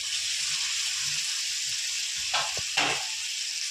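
Fish curry spices frying with ginger, onion, garlic and potatoes in a pan, a steady close sizzle with a couple of louder bursts of stirring near the end.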